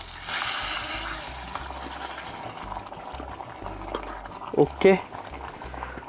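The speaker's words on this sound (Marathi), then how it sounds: "आणि हा दगड मग याच्यामध्ये सोडायचा आहे" A hot stone is dropped into a pan of shrimp curry, giving a burst of hissing sizzle that settles into bubbling boil, with a couple of sharp knocks near the end and a voice speaking briefly.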